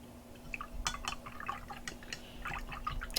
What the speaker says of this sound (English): Now rinse your brush.